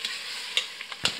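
Black chickpea gravy roasting in a pan while a spoon stirs it, a soft continuous sizzle broken by three or four sharp scraping strokes, close and clear with no talk.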